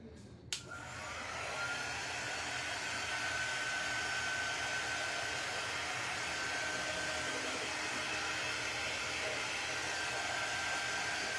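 Hair dryer blowing on paint drying over a jello mold pumpkin, switching on with a click and then running as a steady, close, loud whir for several seconds, alone without talk.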